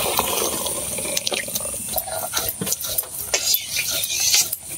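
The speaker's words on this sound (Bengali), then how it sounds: "আর এখন জিরা বাটা হইতেছে" Cumin paste ground by hand on a grinding stone, a close, wet, gritty rasping repeated in uneven rhythmic strokes.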